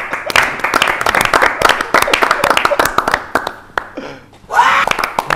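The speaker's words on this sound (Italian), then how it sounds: "Un applauso anche per Andrea Chiasserini" A studio audience claps on an Italian sports talk show, sharp distinct handclaps in a lively burst that tapers off, followed by someone speaking.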